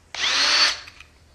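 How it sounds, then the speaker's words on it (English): A 5/64 drill bit gently drills out a small hole in a string trimmer or weedeater: a single close, loud whine of about half a second that tapers off, with no talk. "gonna put it in that hole and gently drill it out."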